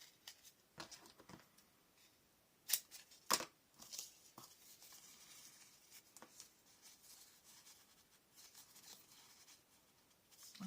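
Scissors cut paper into a banner at a scrapbooking craft table: soft, close snips and rustles, with two sharper, louder cuts in the middle and lighter paper handling around them.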